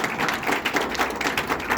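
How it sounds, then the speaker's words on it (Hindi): An audience at a motivational business seminar claps in steady, dense applause, a close, continuous patter of many hands with no voices over it. "उनके लिए जोरदार तालियां हो जाए"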